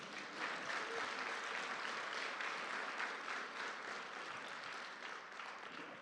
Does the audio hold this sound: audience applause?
yes